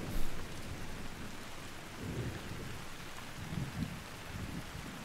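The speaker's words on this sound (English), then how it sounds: "I definitely wouldn't want to be out here for a thunder and light like this" A thunderstorm in the hunting game The Hunter: Call of the Wild, set in Africa, with steady heavy rain hissing throughout and low rolls of thunder rumbling now and then, no voices.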